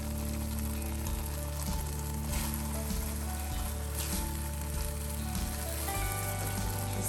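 Coconut milk sizzles and bubbles loudly in a hot pan for Thai green curry with chicken, a continuous frying hiss over a low background hum.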